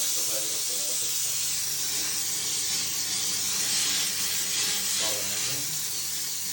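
An Ultra 45 combination steam cleaner sprays steam in a steady, loud hiss that continues unbroken, with faint mechanical noise underneath, while an apartment is being washed.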